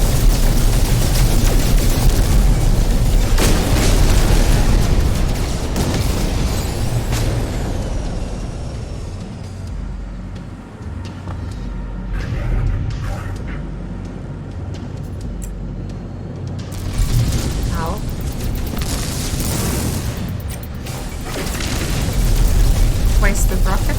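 Rockets fire and explode during a space dogfight in No Man's Sky, with loud booming blasts and rushing engine roar through the clip, louder at the start and end, with someone talking over the action.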